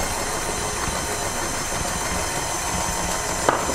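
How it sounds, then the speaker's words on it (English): An electric mixer hums at low speed through almond muffin batter of milk, vanilla and melted butter, a steady motor drone with a faint click near the end and no talk. "Start mixing on a low speed first."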